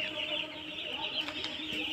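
Two-day-old broiler chicks kept warm in a brooding shed in January chirp in a dense, continuous high-pitched chorus, with a few sharper peeps standing out.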